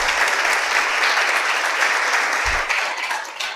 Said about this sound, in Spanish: si le podéis dar un aplauso